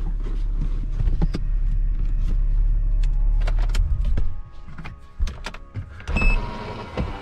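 A car's electric power window motor whirs steadily as the glass lowers, a sustained near hum lasting several seconds before it stops, followed by a few scattered clicks and light handling knocks.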